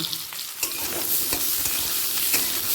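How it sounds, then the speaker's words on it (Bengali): Potato pieces fry over high flame in a pan with spices and asafoetida tempering, a steady bright sizzle broken by scraping stirs, close and continuous with no talk. "আলুটা এক মিনিট হাই ফেলে ভেজে নেব"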